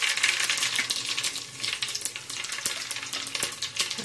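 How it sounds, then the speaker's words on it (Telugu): Tempering seeds dropped into hot oil for a tamarind lentil rasam crackle and sizzle steadily, a dense continuous frying hiss with scattered pops, close and fairly loud throughout with no talking. "మనకు ఆయిల్ వేడైపోయింది, నేను ఇప్పుడు ముందుగా పోపు గింజలు వేస్తున్నాను"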